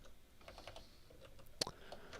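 Soft, quick keystrokes on a computer keyboard set to Russian tap out a brief irregular run, close but quiet, with one sharper click near the end.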